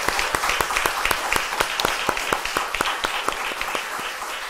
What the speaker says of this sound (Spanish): Un gran aplauso a Venezuela, a nuestro país,